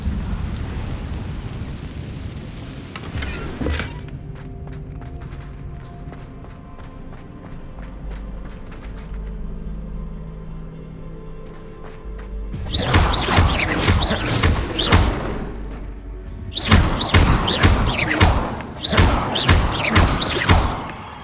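Confringo blasting spells in Hogwarts Legacy erupt in a series of loud, rapid explosive bursts and crashes, clustered in two volleys after a quieter stretch of low rumbling ambience.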